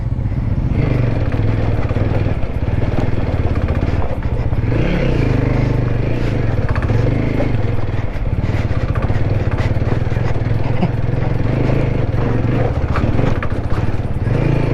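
A motorcycle ridden off-road without off-road tyres on a rough track in northern Gorkha, Nepal, its engine droning loud and close without a break, with clattering and scraping mixed in.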